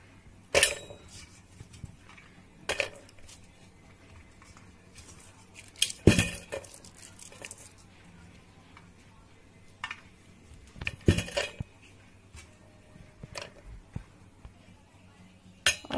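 Garlic cloves drop into a mixer grinder jar in a home kitchen, giving a few sharp clinks and knocks against the jar, spread out between quiet stretches.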